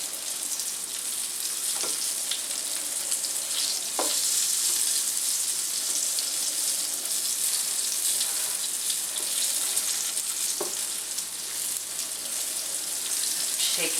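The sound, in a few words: redfish frying in a pan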